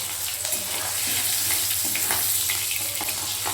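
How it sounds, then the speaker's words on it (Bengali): Hilsa fish roe frying in hot oil, a loud, dense and steady sizzle with scattered sharp crackles and pops close by, no voices. "মাছের ডিমটা এবার ভেজে তুলে নেব"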